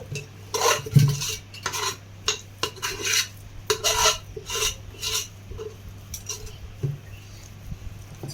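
A ladle scrapes and taps against a pan as a hot sweet mixture for chandrakanthulu is spread out, repeated rasping strokes and light metallic knocks in an uneven rhythm, close by with no talking.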